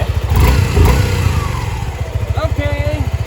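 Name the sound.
Suzuki V-Strom 250 SX motorcycle engine starting and revving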